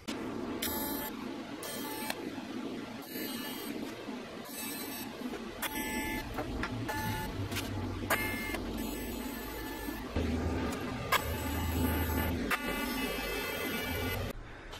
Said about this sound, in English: So I'll show you guys a little welding here.